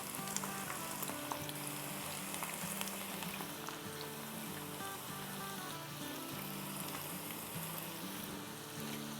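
Mixed vegetable pakoras with shredded cabbage frying in hot oil in a kadhai, a continuous close crackling sizzle with bubbling pops throughout, steady and fairly loud, no voices.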